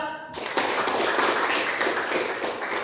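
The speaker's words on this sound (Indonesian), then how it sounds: "kasih tepuk tangan untuk kelompok 4" Students in a classroom give group 4 a round of applause: dense, steady clapping starts abruptly and continues at an even level throughout, close and loud with no voices over it.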